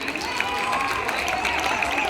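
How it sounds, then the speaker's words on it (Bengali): Children clapping loudly together in a room, a steady dense patter of hand claps with a faint voice or two mixed in. "এদের সকলের জন্য একটা হাততালি দাও জোরে"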